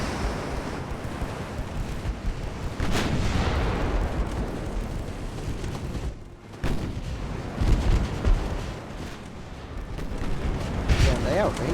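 Naval gunfire in the warship game Ultimate Admiral: Dreadnoughts, with 1890-era hulls trading shots: deep booming reports and rumbling blasts over a constant wash of sea and engine noise, with someone talking through parts of it.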